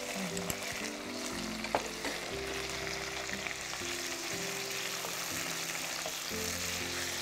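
Chopped tomatoes and green chili frying in a pot for a chicken gravy, a soft continuous sizzle with a faint spoon tap, set against a quiet background of music-like tones.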